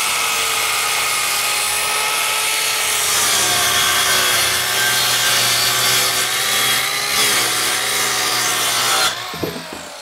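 A loud power saw whines steadily as it cuts through plywood for several seconds, its pitch wavering slightly, then the cut ends abruptly.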